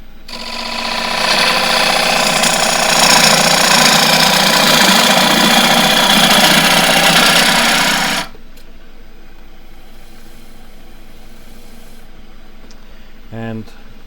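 A woodturning lathe cutting a 9-sided wooden plate gives a loud, dense grinding rasp for about eight seconds, then stops abruptly, leaving only quiet motor hum and a brief faint knock near the end.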